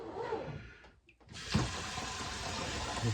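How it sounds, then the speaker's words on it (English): Tap water runs into the plastic reservoir of a Keurig coffee maker, a steady hissing pour that briefly stops and then resumes louder with a splashing onset, continuing close and alone. "That is me filling up my Keurig water holder thingy."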